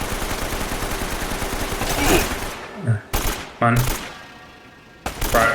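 Video game gunfire: a fast automatic burst rattling loudly for a couple of seconds, then several separate heavy shots spaced apart, with a voice speaking briefly in between.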